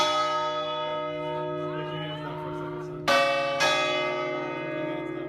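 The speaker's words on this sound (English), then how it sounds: "bells on the top of the Leaning Tower of Pisa" Large bells ring at the top of the Leaning Tower of Pisa, a sustained resonant tone with lingering overtones. Two fresh loud strikes land about half a second apart and hum on afterward.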